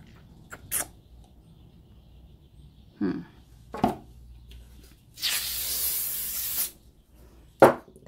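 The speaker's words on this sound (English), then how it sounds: "that was silicone spray for all of you that weren't sure what I was doing" Silicone spray hisses from an aerosol can onto paint for a fluid art pour, one sustained burst of about a second and a half, with a few short squirts and soft knocks around it in a quiet room.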